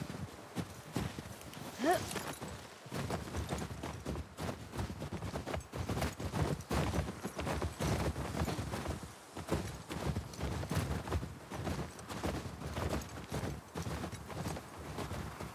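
Rapid, rhythmic hoofbeats clatter continuously as a horse gallops in The Last of Us Part II, with a brief whinny early on and a faint voice underneath.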